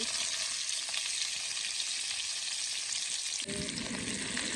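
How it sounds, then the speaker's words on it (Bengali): Fish fries in hot oil with a loud, dense, continuous sizzle and crackle, close by, an occasional stir breaking the steady spitting hiss, no talking. "মাছ তেলে দিয়ে দিচ্ছি"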